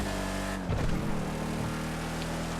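Declasse Tulip muscle car driving in the video game GTA 5, a steady loud engine drone with a brief thump and surge as it bounces on soft suspension, continuous and close.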